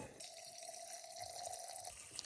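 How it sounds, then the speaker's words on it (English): Filtered water runs steadily into a container for about two seconds, a close, soft pouring and filling sound with no talk. "So I'm going to use my filtered water, fill that up."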